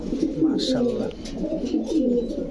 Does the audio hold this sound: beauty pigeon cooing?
yes